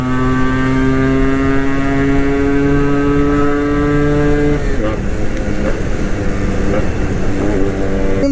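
A Yamaha RX-G motorcycle engine runs loud and steady throughout a ride, with a strong droning tone that drops in pitch midway as the revs fall.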